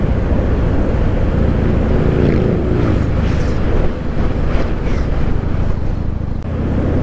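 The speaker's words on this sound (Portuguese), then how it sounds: "Olha lá, uma galera vindo de moto." A steady, loud engine drone with wind roar fills the road as a group of motorcycles passes nearby, the sound swelling and fading slightly over several seconds.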